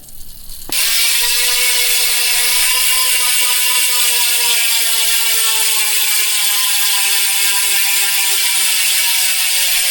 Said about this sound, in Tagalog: yun yung tunog ng hubs niya yan